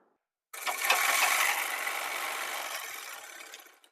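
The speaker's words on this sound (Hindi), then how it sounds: "और इसमें हम सिलाई कर लेते हैं।" A sewing machine runs steadily, stitching the shoulder seam of a gents shirt. The close, continuous whirring lasts about three seconds, then stops. No one talks.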